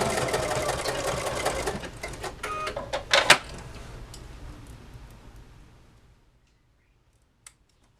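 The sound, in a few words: sewing machine backstitching a fabric face mask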